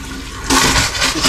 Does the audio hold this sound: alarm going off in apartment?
no